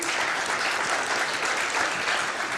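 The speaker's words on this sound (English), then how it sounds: "This quick round of applause maybe for like Coalesce in general." At a dbt Coalesce conference talk the audience gives a short, dense round of applause, even and sustained throughout, with no voices heard over it.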